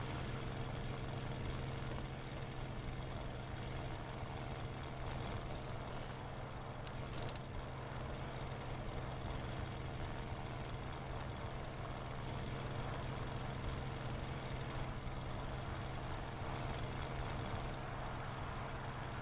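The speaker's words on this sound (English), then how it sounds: "I keep hearing the engine of something very close, but I don't see it." A nearby aircraft engine drones in War Thunder's VR simulator mode, a low steady hum with a constant pitch, faint and unchanging for the whole stretch, with no voices.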